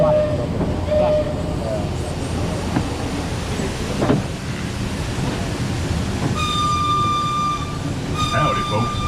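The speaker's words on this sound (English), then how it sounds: "We're in a minecart for a ride that looks like a runaway mine train" Minecart ride at Knott's Berry Farm rumbles and clatters steadily along its track, with a sustained horn-like tone sounding in the second half and a voice speaking over the noise.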